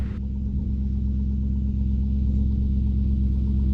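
A rebuilt 1932 Roadster hot rod rumbles steadily on its first cruise, a loud, continuous low engine drone at close range with no voices over it.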